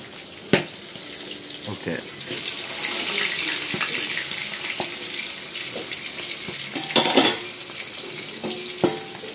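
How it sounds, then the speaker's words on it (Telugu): Fish frying in oil in a pan over a medium flame: a continuous hiss and crackle of sizzling oil, close up, with occasional clanks and knocks of cookware, and a brief spoken word. "ఇక ఈ మిగిలిన 2 కూడా మనం చేపలు అందులో వేసేద్దాము. మీడియం ఫ్లేమ్ పెట్టి మనం ఉడికిస్తున్నాము."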